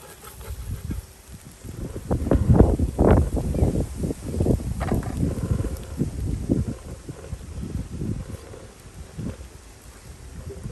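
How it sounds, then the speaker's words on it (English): Gusting wind buffets the microphone in uneven, rumbling surges that rise and fall over the span, strongest early on, with faint rustling behind; no voice is heard. "The wind just came up."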